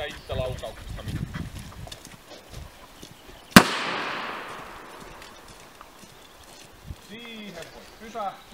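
A single sharp gunshot fired during an outdoor dog temperament test cracks at moderate distance and rings out briefly, with people talking quietly before and after.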